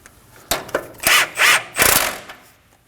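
A ratchet wrench tightens a tie rod nut on a 2017–2024 Nissan Armada until snug: a few close, quick clicking bursts, then several longer ratcheting runs, ending in quiet.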